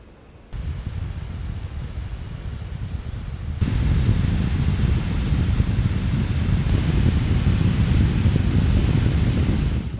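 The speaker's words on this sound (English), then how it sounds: "listen to the audio of the fan as it increases, as you go from quiet, balanced, performance, and turbo" An Acer Predator Helios Neo 16 gaming laptop fan whirs as a steady broadband rush, quiet at first, then stepping up twice to a louder, fuller roar as it moves from quiet through balanced and performance to turbo mode.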